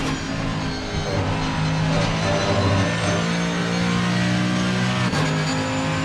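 Mercedes GT3 race car engine in Assetto Corsa Competizione at Laguna Seca, a loud, steady, rough-edged drone holding high revs throughout with small rises and dips in pitch.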